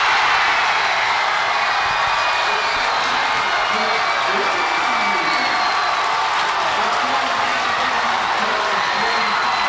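Home crowd at a Jackson high school boys basketball regional game roaring after a made 3-pointer, loud sustained cheering and whoops filling the gym with no break, a commentator's voice faintly mixed underneath.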